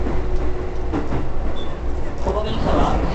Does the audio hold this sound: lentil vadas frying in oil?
no